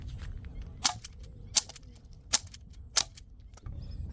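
A BB gun fires four sharp, snappy shots at a tin can at close range, each crack separated by roughly two-thirds of a second over a low background rumble.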